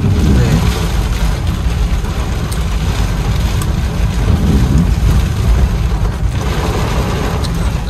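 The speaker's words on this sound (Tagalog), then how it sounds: "malakas ang ulan" Heavy rain drums on a car in a continuous loud wash, a dense steady hiss with low rumbling underneath and no gaps.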